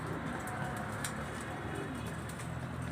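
Pigeons coo softly in a loft, their low murmuring calls half-buried in a constant, dense background noise throughout.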